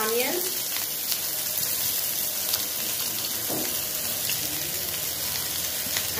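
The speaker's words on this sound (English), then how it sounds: "Oil is very hot now, so add chopped onions," Chopped onions dropped into hot oil in a pan, a continuous loud crackling sizzle close up that keeps going throughout, with no one speaking.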